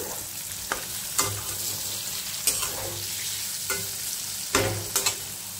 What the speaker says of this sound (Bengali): এই যে পটল ভাজা হচ্ছে